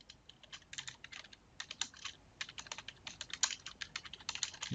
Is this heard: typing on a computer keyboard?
yes